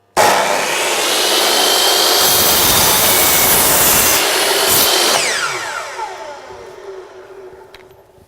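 A chop saw slices a compound bevel at a 15-degree angle through wood with dust extraction running, a loud sustained whining cut from start to finish that slowly winds down as the blade spins to a stop.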